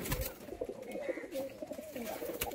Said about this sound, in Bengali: এখানে কিছু শ্বেত পায়রা দেখতে পাবেন আপনারা।